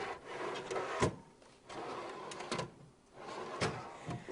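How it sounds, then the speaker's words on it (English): Pull-out waste container slide in a cabinet being rolled open and shut repeatedly, soft gliding rumbles broken by several sharp knocks as it reaches the end of travel, close and without talk. "you want to make sure and cycle the unit a few times just to make sure everything is gliding perfectly"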